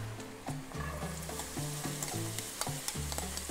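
Chopped onions sizzle in olive oil in a hot pan, a steady loud frying hiss broken by repeated scraping and knocking strokes of stirring, with no talking.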